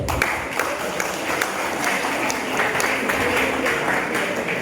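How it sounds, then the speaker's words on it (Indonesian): Audience applause at a Christmas celebration of a vocational agribusiness school in Nabire, following a Christmas message from the regency's head of education; steady, dense clapping fills the room at an even level throughout. "Mari kita berikan aplaus."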